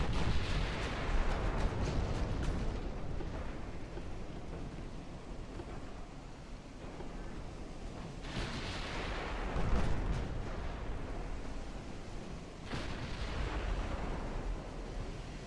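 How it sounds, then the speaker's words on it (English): Naval guns firing at an armoured cruiser in the Ultimate Admiral Dreadnoughts game: heavy booming salvos roll in waves over a constant dense rumble of battle noise, loudest swells recurring every few seconds. "So I'm just firing a few at the armoured cruiser."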